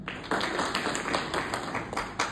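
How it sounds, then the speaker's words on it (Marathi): Sustained clapping from an audience cheering a mentor at a ladies' business success event for network marketing, a dense steady patter of many hands with no talk over it. "त्यांच्यासाठी पण जोरदार टाळ्या"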